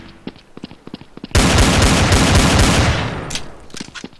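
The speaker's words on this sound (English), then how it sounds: "Why'd you shoot me, bro?" Gunfire from Counter-Strike: Source on the Dust 2 or Train map bursts in suddenly as a loud, sustained volley of rapid automatic shots lasting almost two seconds, then tapers off amid lighter game sounds.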